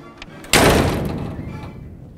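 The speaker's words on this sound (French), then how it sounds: "une Médée glaçante quittera la scène en claquant la porte." A heavy door slams shut on a theatre stage with one loud, sharp thud whose boom rings and slowly dies away, preceded by a brief quiet moment.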